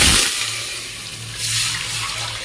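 Water pours steadily into a cooking pot already holding oil, for chicken dum biryani, a continuous splashing hiss with a faint low hum underneath.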